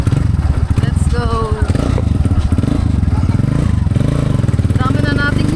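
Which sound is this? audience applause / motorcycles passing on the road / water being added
motorcycles passing on the road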